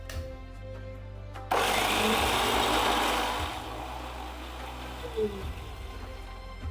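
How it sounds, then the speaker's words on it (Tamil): A kitchen blender whirs loudly for a couple of seconds blending cut cucumber into juice, then runs down, with a low hum and faint voice around it. "குக்கும்பரை நம்ம வந்து பிளெண்ட் பண்ணி ஒரு மாதிரி ஜூஸ் ஆக்கிக்க போகிறோம்"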